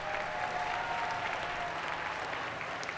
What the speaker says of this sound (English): a round of applause for our P-TECH scholars.